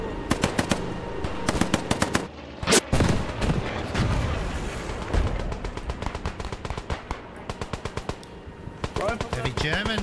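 Rapid bursts of machine gun fire in the Squad 44 video game, a heavy German machine gunner defending his position against an armoured French column at the Maginot Line in 1940, loud and sustained with dense gunshot rattles and a heavy blast.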